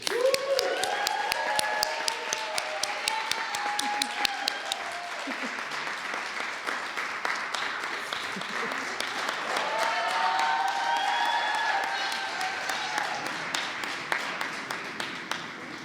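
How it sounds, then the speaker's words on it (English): Sustained audience applause at an annual human rights awards ceremony, steady and dense for about sixteen seconds with some cheering and voices mixed into the crowd. "Please give a round of applause for Corporal Danny Woods."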